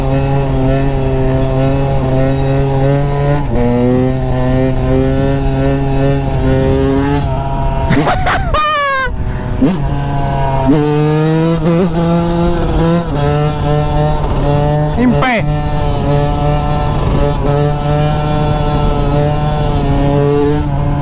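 A Yamaha YZ125 two-stroke dirt bike's engine being ridden into a turn: a loud, steady buzzing drone that dips, then surges through quick revs before settling into a sustained high note, close and continuous throughout.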